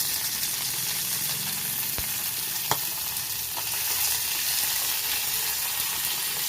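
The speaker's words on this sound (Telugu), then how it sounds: "పచ్చిమిర్చి కొంచెం దూరంగా ఉండి ఫ్రై చేసుకోండి." Green chillies frying in hot oil in a pan, giving a steady, fairly quiet sizzle with a few sharp pops and crackles.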